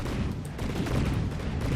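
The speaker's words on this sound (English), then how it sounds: "I kind of like the sound of these cannons." Cannons firing in the naval combat video game From the Depths, a dense barrage of overlapping booms and blasts forming a loud continuous rumble.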